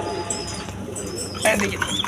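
Pigeons cooing at a seller's stall, with soft, low coos and a few chirps, close by, mixed with a voice talking.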